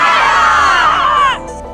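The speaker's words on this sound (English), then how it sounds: "Get ready to cheer on your track stars." Crowd of children cheering and shouting at a school track meet, loud, high and continuous, then cutting off sharply near the end, leaving quieter background.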